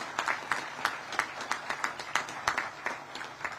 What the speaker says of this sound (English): let's give a round of applause to the entire Pegula family